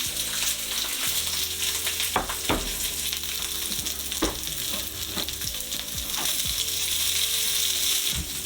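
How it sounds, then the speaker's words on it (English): Asparagus and peppers sizzle and fry steadily in a pan for a shrimp stir fry, a continuous close crackle broken by a few sharper pops and stirring clatters, with no talking. "So this has been frying up for about a minute and a half or so."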